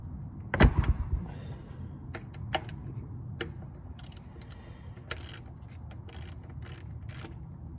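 Ratchet wrench loosening a 19 mm transmission drain bolt on a 2021 Nissan Sentra, with quiet clicking bursts, a sharper knock early on and scattered ratchet ticks over a low background rumble.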